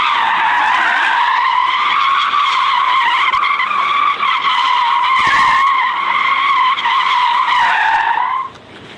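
A Tesla car doing donuts skids its tires in a loud, sustained wavering squeal lasting several seconds with almost no engine noise, then cutting off abruptly near the end.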